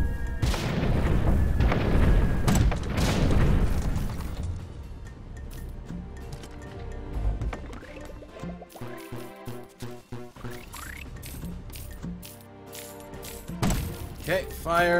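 Cannons fire in the video game Cannon Brawl, several deep booms early on followed by sharp, rapid impact pops and bubbly liquid-like game effects, with a player talking over parts.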